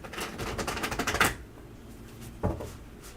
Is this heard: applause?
no